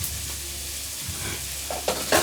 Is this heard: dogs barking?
no